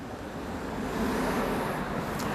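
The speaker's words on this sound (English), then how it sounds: "sorry if you hear the car coming by" A car drives by outside, heard as a steady broadband roadway hiss that swells slightly as it passes, with no one speaking.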